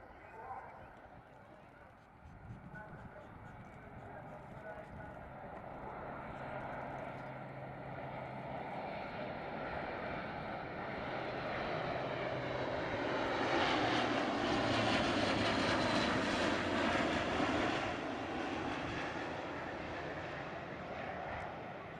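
An Airbus A400M Atlas C1 military transport aircraft flies past at an RAF Cosford air display, its turboprop engine roar swelling steadily to a broad peak and then easing, with commentary talking over it.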